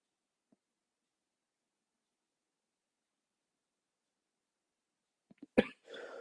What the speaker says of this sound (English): When you do proper pranayama practice, you get this cough